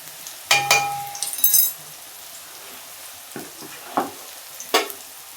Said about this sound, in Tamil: வதக்கிறோம்